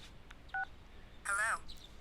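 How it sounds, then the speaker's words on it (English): Short electronic phone ring tones from an incoming call in the video game Persona 4 Golden: a brief two-tone beep followed by a longer warbling trill, faint against a quiet background. "Phone call, huh?"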